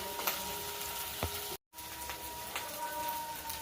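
Ginger and garlic paste frying in a pan, a steady close crackling sizzle with scattered pops, broken by a brief moment of silence.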